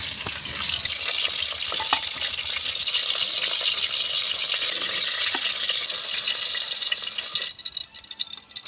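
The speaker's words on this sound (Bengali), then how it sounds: "মাছগুলো ভাজা হয়ে গেছে" Rohu fish frying in hot oil for a Bengali fish curry with Malabar spinach, giving a steady, close hiss that fills most of the stretch before easing off near the end, with no voices.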